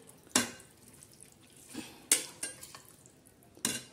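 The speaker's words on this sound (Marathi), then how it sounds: "आता छान असं हलवून घेऊ" A spoon stirs chicken in a pressure cooker for a black-masala curry, making four distinct scraping clanks against the metal pot with quieter shuffling between them and no talk.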